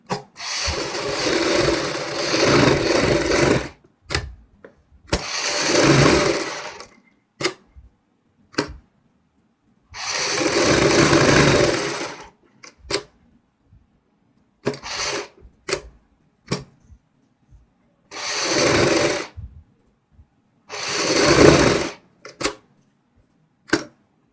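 Short bursts of a sewing machine stitching a neckline onto extra kameez fabric, several runs of a few seconds each separated by pauses and small clicks, close and fairly loud.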